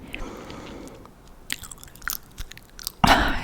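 Gum being chewed close to the microphone in a quiet whispered setting, giving soft wet smacks and clicks in an irregular rhythm, ending in a louder burst of crackly mouth noise.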